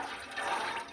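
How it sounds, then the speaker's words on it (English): Bone broth simmers on low heat as its liquid boils off, giving a soft, continuous bubbling and hissing at close range. "when it stops bubbling like that is when I know all the liquid is boiled out"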